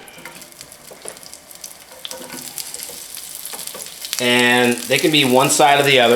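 Onions sizzle steadily in hot oil in a pan as they are spread out to one side, with shishito peppers to follow; a voice talks over the quieter first part, then the frying swells louder near the end.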